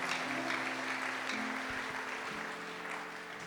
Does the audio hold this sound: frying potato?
no